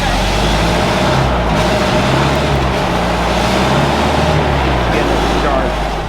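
An old-school race car's engine runs loudly and steadily at the garage, a dense low rumble that continues without pause, with a voice faintly under the noise.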